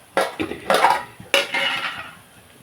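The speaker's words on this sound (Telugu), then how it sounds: "ఇందులో మనం ఇప్పుడు ఈ మటన్ వేసేసుకుందామండి" Pieces of mutton are tipped into a metal cooking pot for a gongura curry, with a few sharp clattering knocks of meat and utensil against the pot, close and fairly quiet.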